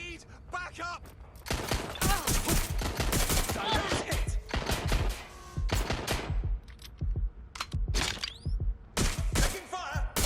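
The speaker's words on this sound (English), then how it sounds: "Taking fire!" Rapid bursts of automatic gunfire and single shots in the video game Watch Dogs Legion, loud and dense, with brief pauses between volleys and a voice calling out between them.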